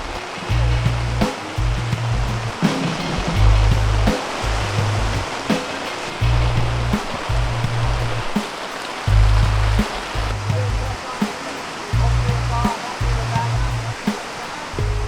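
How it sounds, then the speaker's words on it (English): Dense, steady roar of heavy rain pouring down, with a recurring low rhythmic thumping underneath throughout. "it started pouring"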